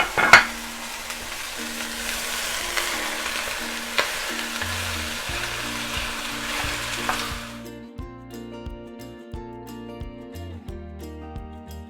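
Beef hitting a super hot Dutch oven sends up a loud, close sizzle with stirring and scraping for several seconds, then the searing fades as music takes over, with no voices.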